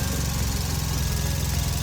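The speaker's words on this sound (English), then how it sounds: "look at the engine, how smooth it is now" A Hyundai Veloster Turbo engine idles steadily after a misfire repair and injector cleaning, an even, continuous mechanical hum heard up close with no voices.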